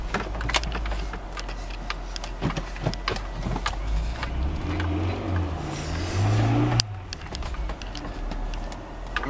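A car engine idles and hums low while reversing slowly on homemade epoxy brake pads, sharp clicks and knocks popping throughout, a brief rising whir near the end before it settles back.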